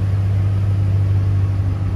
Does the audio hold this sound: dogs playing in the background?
no